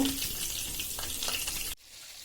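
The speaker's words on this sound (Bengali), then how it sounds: "এবার মাছগুলো একটু আমি তেলে ভেজে নিব।" Fish sizzling in hot oil in a wok for a curry with cauliflower and potato: a steady, loud, broad hiss that cuts off abruptly near the end, leaving quiet room noise.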